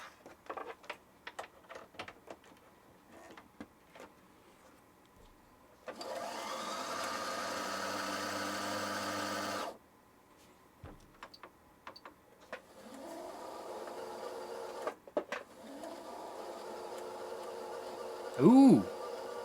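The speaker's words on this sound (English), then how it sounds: "It may take a little bit for the motor to run faster and faster as it goes" A sewing machine's bobbin winder motor whirs steadily for about four seconds, then rattles briefly again later, with scattered clicks and handling noises around it.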